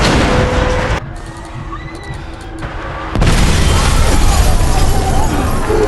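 A loud, rumbling explosion in the 2020 zombie film Alive bursts out after a quieter stretch, followed by sustained roaring debris and crackle filling the soundscape.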